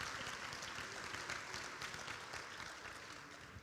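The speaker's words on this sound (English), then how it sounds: "How about a nice round of applause for our presenting sponsors?" An audience at a high school football hall of fame induction ceremony applauds for the sponsors, a faint and steady wash of clapping from a crowd in a hall that slowly tapers off.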